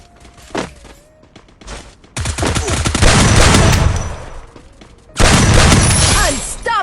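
Gunfire rattles in the video game Free Fire, with single shots followed by long, loud automatic bursts. A person talks in between the shots.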